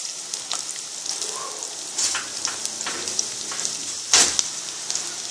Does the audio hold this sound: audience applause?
no